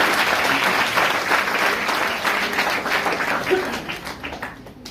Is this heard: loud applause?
yes